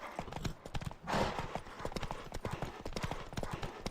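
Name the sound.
horse galloping, from a video game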